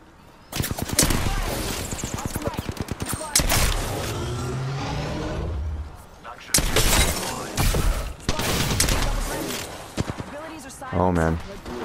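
Rapid bursts of gunfire in the Apex Legends battle game, loud repeated automatic volleys and single shots spread through the span, with a player's voice talking over parts of it.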